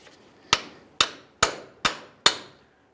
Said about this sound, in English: We'll use a hammer and punch directly in the center